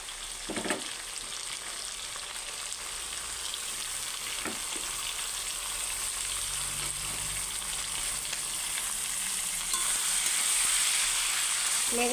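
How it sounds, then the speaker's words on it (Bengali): Chopped amaranth stems and fenugreek greens fry in hot oil, a loud continuous sizzle close by with a couple of stirring knocks early on, then a steady hiss that swells slightly toward the end, without talking. "তেল উঠছে, এখন আমি এটাতে এখানে কেটে রাখা ডাঁটা শাক আর মেথি শাক দিয়ে দেব"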